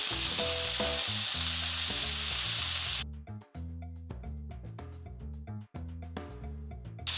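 A burger patty topped with a slice of cheese sizzles in a hot pan, a loud continuous frying crackle that runs alone throughout, with brief scraping and clinks from a spatula partway through.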